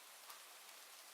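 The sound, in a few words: rain sound effect in a virtual coffee shop scene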